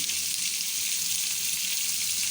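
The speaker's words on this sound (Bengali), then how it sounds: "আমরা মাছকে ফেরার জন্য কড়াইতে উঠাই দিছি" Hilsa fish frying in oil in a wok, a steady, dense crackling sizzle that holds at an even level throughout with no talking.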